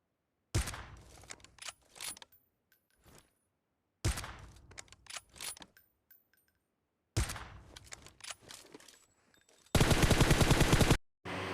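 Gunfire in a mobile battle royale shooter game, three separate bursts of rapid automatic shots with pauses of silence between them, then a dense rattling volley near the end, loud and close.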